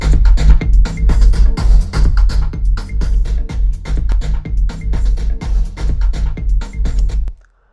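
Percussion loops from a Tomorrowland dance track play with a heavy kick and deep bass in a loud, driving four-on-the-floor groove that runs steadily for several seconds before cutting off abruptly, with no voices.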